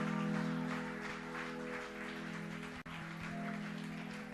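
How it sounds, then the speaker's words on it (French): A church congregation claps and acclaims continuously as music sustains underneath, the dense applause holding steady before a brief dip and then resuming. "Des acclamations au roi des rois."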